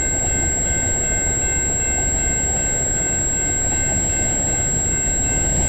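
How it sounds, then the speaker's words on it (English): A freight train of Saskatchewan cylinder grain cars, with a mid-train DPU, rolls past at Egerton Street in London, Ontario, giving a steady, close rumble of wheels and cars with faint high squeal tones throughout. "we got some Saskatchewan cylinder grain cars, and this train actually has a mid DPU"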